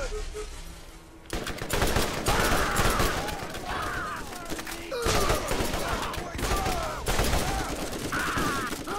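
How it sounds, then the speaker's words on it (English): Automatic gunfire in the video game Borderlands comes in rapid, repeated bursts separated by short gaps. It is loud and continuous, mixed with other in-game combat noise. "Shooting at me, but I can't see them."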